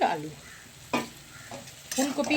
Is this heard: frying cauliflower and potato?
yes